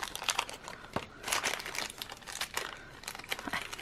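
Disney advent calendar packaging being cut open, with crinkly cardboard and plastic rustling in bursts and a few sharp snips, close up and without talk.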